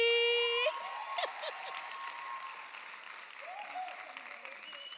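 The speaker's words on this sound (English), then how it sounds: "Ladies and gentlemen, I want you to put your hands together for an artist, an articulator, an activist, and now an author, Miss Ayanda Allie." Audience applause at a book launch rises after a brief spoken introduction, a moderate, steady patter of clapping with voices calling out over it.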